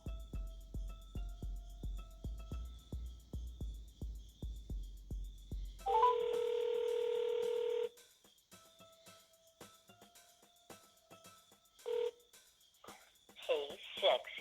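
Dialing and ringing tones from a Skagen Falster 3 smartwatch speakerphone: after a short voice command, a steady two-second tone, then separate short beeps and rising chirps, quiet and close.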